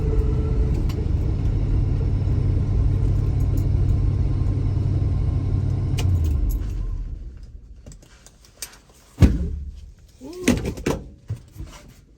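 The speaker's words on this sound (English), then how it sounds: "Had a little backfire." A 1984 Chevrolet Suburban engine rumbles steadily at close range, goes quiet, then lets out a single sharp backfire pop followed by a few scattered knocks.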